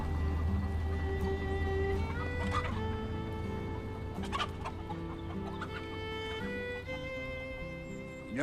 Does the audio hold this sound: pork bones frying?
no